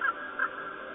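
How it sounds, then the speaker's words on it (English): Two harsh, hoarse croaks from a large black bird, close together at the start, followed by a fading rasp over faint background. "the librarian can hear the black bird croaking"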